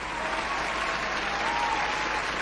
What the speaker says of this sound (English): Give him a round of applause for that one.